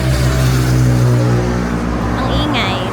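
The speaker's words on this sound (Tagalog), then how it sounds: "Ang ingay ng mga sasakyan." Street traffic on the way to Arashiyama Bamboo Forest in Kyoto, Japan: a loud, continuous rumble of passing cars and engines, close and dense, with a voice faintly underneath.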